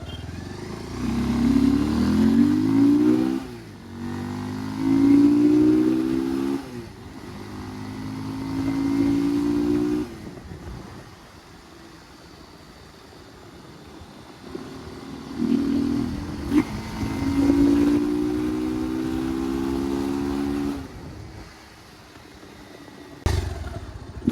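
A Bajaj Pulsar 180 motorcycle accelerates hard through the first and second gears, its engine note climbing in pitch in repeated rising sweeps with brief drops at each shift, loud and close with no talk.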